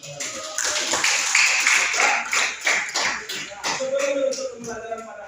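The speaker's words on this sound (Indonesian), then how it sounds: "Ya, kita kasih tepuk tangan untuk menyelesaikan aplikasi." Classroom students clap their hands together in a dense burst of sharp, overlapping claps that fades out. A voice then speaks near the end.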